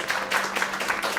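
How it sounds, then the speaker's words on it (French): Studio audience applauding a contestant eliminated from a televised game show, with a steady, dense wash of clapping from a sizeable crowd filling the whole moment. "je crois qu'elle mérite bien vos applaudissements avant de nous quitter"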